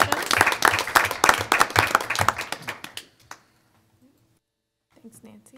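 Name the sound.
audience applause for students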